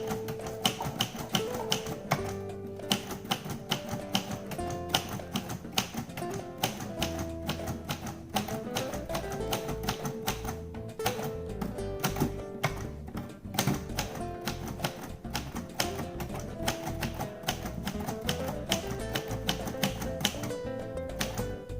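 A red Royal Custom manual typewriter types a long run of quick, crisp mechanical keystrikes, irregular clacking bursts close by with occasional carriage sounds, with no voices.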